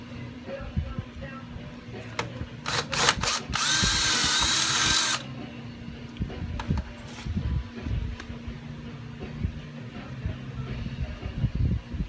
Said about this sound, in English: drill the 2 shock holes out with 3/8.